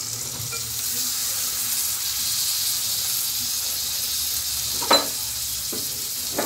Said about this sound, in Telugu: ఇగో ఇప్పుడు శనగపప్పు వేసుకుంటున్నా.